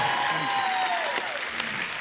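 Studio audience on a comedy show applauding two musicians, a steady wash of clapping that carries under a sustained musical tone which slides and fades away.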